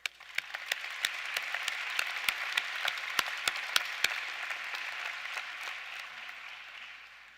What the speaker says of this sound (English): I'd like to give another round of applause for the whole UPIKE staff